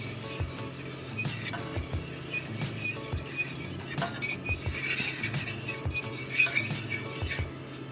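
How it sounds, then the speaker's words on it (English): Barbecue sauce is stirred in a cooking pan for a BBQ chicken sandwich, with a utensil scraping and clinking against metal in steady, close strokes under a low kitchen hum and light sizzle. "Add a little more barbecue sauce to what we have cooking. I'm going to stir that on."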